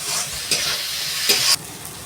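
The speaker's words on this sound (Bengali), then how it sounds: "মশলাটা আমি ততক্ষণই ভাজবো যতক্ষণ না এর মধ্যে তেল ছেড়ে দেয়।" Spice masala fries in oil for a village-style mutton curry, giving a loud, close sizzle with bursts of scraping as a spatula stirs it around the pot.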